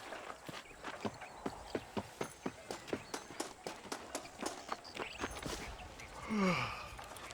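Horse hooves clip-clop at a steady trotting rhythm in the Red Dead Redemption video game, fairly quiet and even, followed by a brief breathy horse snort near the end.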